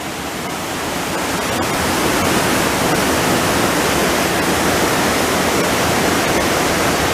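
A waterfall roars steadily and loudly, throwing up spray and mist beside a back road. The rushing hiss swells during the first couple of seconds and then holds constant, with no voices.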